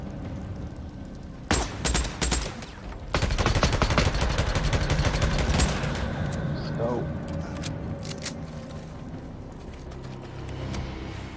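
Days Gone combat: sharp clusters of close gunshots crack out in two bursts, followed by a dense rattling run of rapid automatic fire that tapers into softer distant shots, with speech over parts of it.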